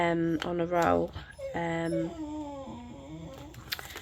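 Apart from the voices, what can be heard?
dog whimpering and howling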